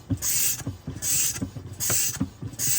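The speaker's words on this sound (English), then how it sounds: "pump the handle on your evacuator to create some suction" An oil evacuator pump handle is worked in steady strokes to draw engine oil from a Yanmar diesel engine, giving a regular rhythmic hiss and mechanical clunk about every half second, close up and alone.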